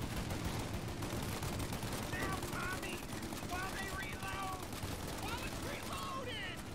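A Tommy gun firing at an armored car in Mafia Definitive Edition, with sustained rattling automatic bursts running steadily throughout under chaotic game sounds and a voice talking over the shooting.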